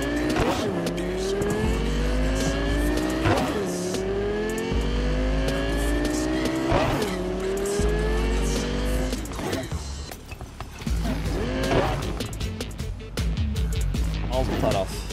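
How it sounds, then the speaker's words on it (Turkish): In Cyberpunk 2077, a fast car's engine revs up again and again in rising sweeps, with tire squeal and skids, and a voice can be heard over the driving. "Abi araba çok hızlı, kontrol etmesi gerçekten zor."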